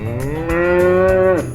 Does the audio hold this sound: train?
no